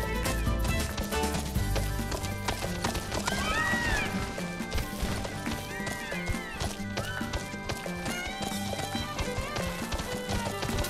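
Horses carrying riders across open country in Final Fantasy XV, steady clip-clop footfalls and occasional whinnies running continuously under a dense layer of game music.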